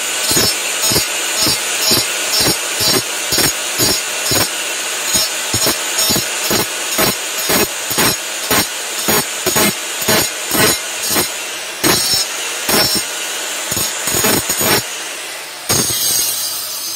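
Power tool grinding or sanding a wooden knife handle, sounding as a steady run of rapid, evenly spaced rasping strokes close by, with a brief pause near the end and no talk.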